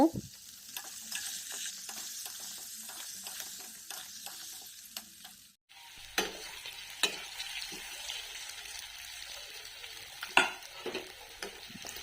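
Potatoes fry in a wok with a little salt and turmeric, a soft steady sizzle with scraping stirs, briefly cut off midway and then resuming with sharper spatula knocks nearby.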